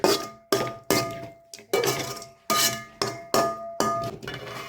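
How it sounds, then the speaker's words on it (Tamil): A spoon or ladle strikes a metal pan about ten times in an uneven rhythm while vegetables are stir-fried, sharp close clanks with ringing decay between strokes and no talk. "நல்லா பொரிக்க போகிறேன். இப்படி தாங்க வதக்கணும்,"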